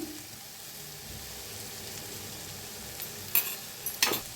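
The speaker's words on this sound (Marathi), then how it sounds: "त्याला भाजून घेऊया छान असं भाजून घेऊया सगळा मसाला" Masala of red chilli and coriander powder roasts in a pan for a potato curry, a low steady sizzle under gentle stirring, ending in a couple of sharper spatula clinks.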